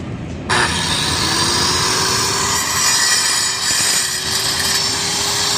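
A power saw cuts at an outdoor concrete paver construction site, a loud continuous grinding whine that starts abruptly and holds steady throughout, with a high ringing tone running under it.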